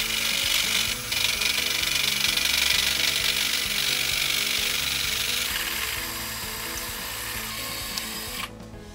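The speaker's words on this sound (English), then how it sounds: "Now the plunge cut is made with the hole saw." Hole saw plunging into an aluminum bicycle frame tube on a milling machine, a loud continuous grinding, rasping cut that holds steady, eases slightly toward the end, then stops.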